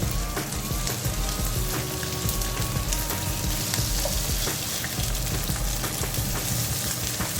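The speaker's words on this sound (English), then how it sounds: "I'm just gonna flip the burger over" A homemade gourmet burger patty sizzles in a pan just after being flipped, a dense, continuous crackle and hiss close by, with faint clinks of cookware and no talk.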